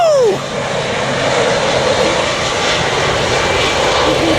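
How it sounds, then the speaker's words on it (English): A large UPS cargo plane flies low overhead on approach to Lindbergh Field in San Diego, its engines a loud, steady roar filling the whole stretch as it passes close by. "we got a huge UPS plane coming over this building and into Lindbergh Field."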